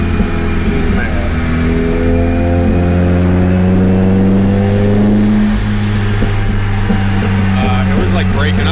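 Turbocharged Honda Integra DA engine revving loudly under gradually applied throttle, a strong droning tone rising steadily in pitch with a faint hiss high above, close and continuous throughout.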